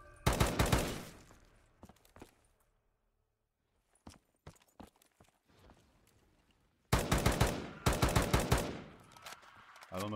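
Full-auto Galil rifle fire in Call of Duty custom zombies, an Israeli 5.56 assault rifle, heard as a loud sustained burst at the start, scattered single shots and short bursts in the middle, then another long loud burst near the end.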